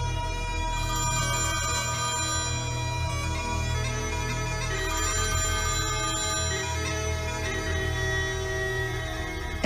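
A telephone rings repeatedly in a steady, insistent pattern, heard alone over a low background hum with no talking.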